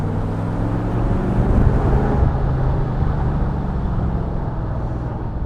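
A tuned 350 Chevrolet V8 in an AK Sportcars Cobra on the move, a loud, continuous deep rumbling drone that holds steady throughout, close and dominant with no voices.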